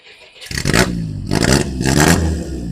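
A 1959 Willys Jeep Wagon engine cranks over and catches, then revs up and down in loud surging bursts, close by with some mechanical clatter.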